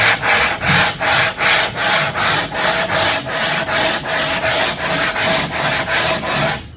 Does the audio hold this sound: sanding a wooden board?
yes